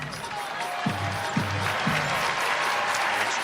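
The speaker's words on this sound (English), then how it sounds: "you see Chen come off the floor and get nice applause" Crowd in a women's college basketball arena applauds as a player comes off the floor, a broad steady clatter of clapping with a few thumping court sounds and faint voices mixed in.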